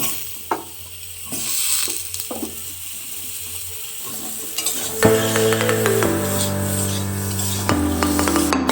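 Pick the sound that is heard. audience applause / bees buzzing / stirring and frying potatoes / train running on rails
stirring and frying potatoes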